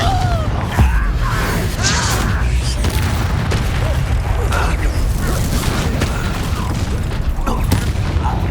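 The Confringo blasting spell bursts during a duel in Hogwarts Legacy. Loud, booming blasts and crashing effects layer into a dense, continuous wall of game combat noise.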